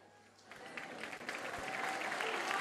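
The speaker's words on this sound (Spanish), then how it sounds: "ese aplauso tiene que ser fuerte para esta artista que es nuestra" A live audience in Monte Águila applauds a local female singer, clapping starting softly and swelling into fuller, steady applause that grows louder over a couple of seconds.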